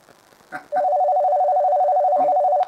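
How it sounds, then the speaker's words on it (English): A landline house phone rings with a loud, steady electronic warble that holds continuously for about two seconds after a brief rustle and faint background noise. "Somebody's calling me right now on my house phone."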